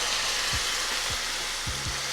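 Vodka hitting a hot skillet to deglaze it for a vodka sauce, a steady close sizzle with a few soft scraping strokes across the pan bottom.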